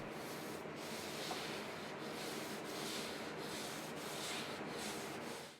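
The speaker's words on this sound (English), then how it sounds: "With a maroon non-woven pad, scrub the old finish off." An old dresser's finish is scrubbed off with a maroon non-woven pad, giving a steady, close, abrasive rubbing that runs continuously with slight rhythmic pulses from the back-and-forth strokes.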